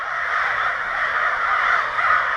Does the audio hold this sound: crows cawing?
yes